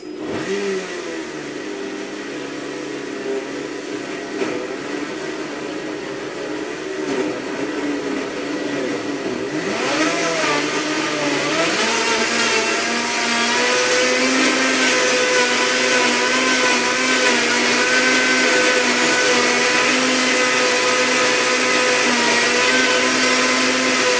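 A Blendtec blender whirs through hot soup, a loud motor drone that shifts pitch early on, then climbs to a higher, steady, even roar that holds to the end.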